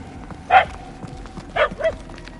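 A dog in a video game barks three times, one single bark followed by a quick pair, moderately loud over a quiet background hum.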